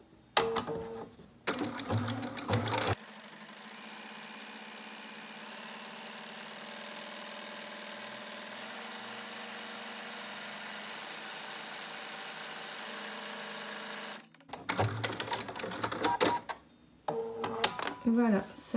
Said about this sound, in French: on fait des essais